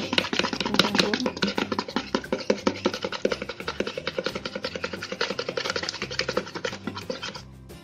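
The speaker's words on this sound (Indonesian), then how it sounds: "Kemudian kita aduk sampai mencampur." Egg yolk mixture stirred briskly in a bowl, a fast, even run of scraping strokes that stays loud and close for several seconds before stopping abruptly, no voices.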